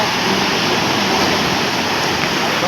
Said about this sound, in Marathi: आणि लाटाचा फोर्स बघा केवढा आहे